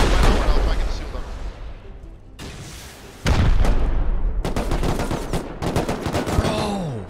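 Gunfire erupts during a clan raid in the survival game Rust: loud, close automatic bursts and sharp single shots, a heavy boom partway through, then rapid overlapping volleys.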